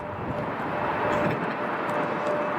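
A large jet at Chicago O'Hare airport roars steadily at close range, a loud, continuous engine rumble with no voices over it.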